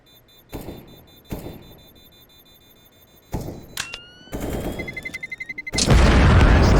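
Gunfire in a Counter-Strike match: a few isolated sharp shots, then a dense rapid string of automatic fire building to a loud close burst, with metallic clicks and a thin electronic tone between.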